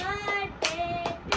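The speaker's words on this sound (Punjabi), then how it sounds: "ਤਾੜੀ ਮਾਰ ਕੇ ਕਹੋ ਹੈਪੀ ਬਰਥਡੇ" A family claps for a birthday at a home cake-cutting: four slow, close handclaps, evenly spaced, under a sustained singing voice.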